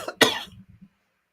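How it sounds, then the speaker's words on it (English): A person gives a single sharp cough with a brief throat-clearing rasp after it, close and loud, then silence. "I don't know why I just coughed on nothing."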